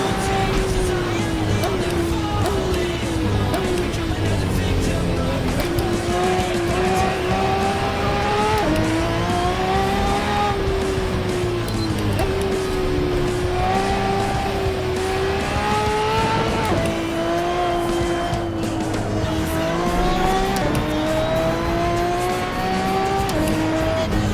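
A race car in the Assetto Corsa video game runs loud and continuously, with the engine climbing and dropping through repeated gear changes and tire noise underneath.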